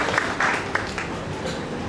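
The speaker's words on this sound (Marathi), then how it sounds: "आणि न सांगता टाळ्या वाजले" An audience applauds at a Marathi album launch, a dense, steady wash of clapping that holds evenly for about two seconds, heard from within the crowd without a break.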